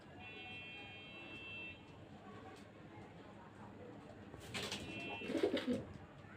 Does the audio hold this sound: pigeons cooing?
yes